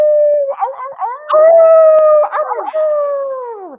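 A man imitates a wolf howl with his voice in one long, wavering cry that rises, breaks briefly in the middle and fades downward at the end, loud and close.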